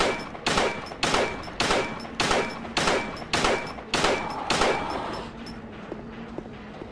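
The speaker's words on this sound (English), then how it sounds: "just get the gun out and shoot the fuck out of him. Just don't stop firing!" Rapid gunfire from a handgun in the Silent Hill 2 video game: about ten sharp, evenly spaced shots in quick succession, loud and close, then trailing off as the firing stops.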